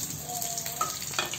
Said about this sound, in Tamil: பொரிச்சு நல்லா அந்த மோர் மிளகாவும் பொரியணும் கடுகும் பொரியணும்